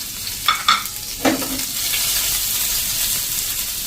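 Curry leaves, chopped chili and grated ginger hit hot oil in a pan, giving a few sharp crackles and pops before settling into a steady, close sizzle with no talking.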